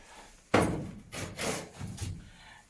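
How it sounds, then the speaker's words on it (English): A bathtub drain trap being pulled out and scrubbed with a cloth, giving a sharp knock followed by several rubbing and scraping strokes, close and fairly loud, with no talking. "I'm going to take the secondary trap out and scrub that with the cloth as well"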